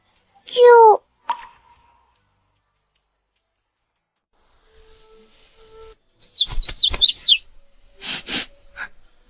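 A sparrow gives a short burst of bright, warbling chirps close by as it flies past, followed by quieter rustles and scattered higher calls, with what may be voices later on.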